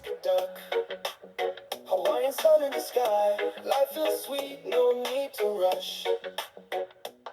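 Music with singing playing through the small built-in speakers of a Beelink SEi13 Pro mini PC, continuous and fairly loud, with a slightly thin, boxy tone and steady beats throughout.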